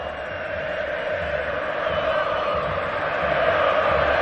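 São Paulo supporters fill Morumbi stadium during a Libertadores semi-final against River Plate, a dense, continuous roar of chanting and cheering from a huge distant crowd holding steady throughout.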